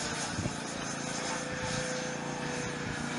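An E-flite 90mm Viper EDF jet climbs vertically with a steady, loud, high-pitched ducted-fan whine and rushing air noise running continuously throughout.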